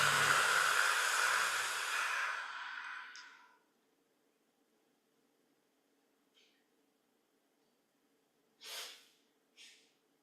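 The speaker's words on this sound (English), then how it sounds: "Make a sound in the throat as you're breathing and letting out the breath." During a guided meditation, a long, throaty exhale is pushed out loudly for about three seconds. It is followed by near silence and two brief, soft breaths.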